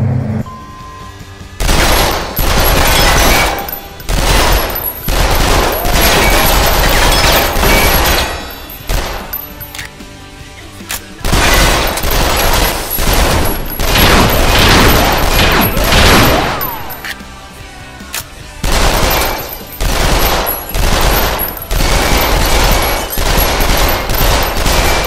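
An SMG in the Lethal VR game fires in repeated loud, rapid bursts. Long rattling volleys are broken by short pauses.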